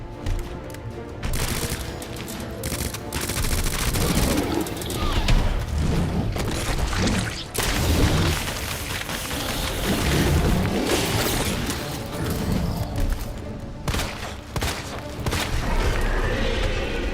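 Heavy booms and crashing blasts from grenades in the survival-horror game Resident Evil 2, dense and loud, overlapping with rapid gunfire in a near-continuous barrage with a few brief lulls.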